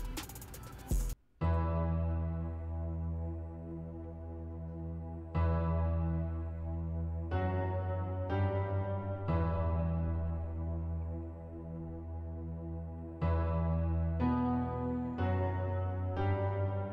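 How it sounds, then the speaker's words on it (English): Trap piano preset from the Nexus plugin playing a simple repeated pattern, soft sustained chord notes struck at a steady, sparse pace, alone without talk, for a beat. "I went to Nexus again and I grabbed the trap piano, and it sounds like this."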